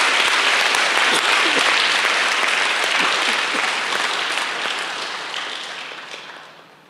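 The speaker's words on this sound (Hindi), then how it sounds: "एक बार सब एक दूसरे के उत्साहवर्धन में तालियों की गड़गड़ाहट करेंगे।" A large crowd at a religious birthday celebration and blood donation gathering bursts into loud, dense applause that holds steady and then fades out over several seconds.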